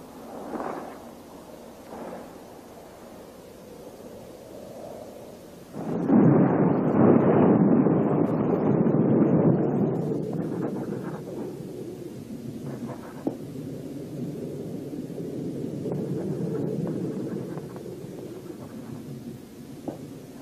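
A loud thunderclap rolls in from a stormy night around a mansion, swelling suddenly and then rumbling away over a steady wind-and-rain bed.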